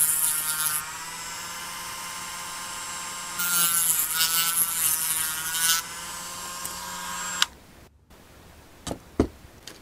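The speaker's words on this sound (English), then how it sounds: "we need to sand down the cut-off end bits like this" A small power tool whines in two bursts while sanding the cut-off end pieces of a model window section for a Tidmouth Sheds model, followed by a few sharp clicks and taps.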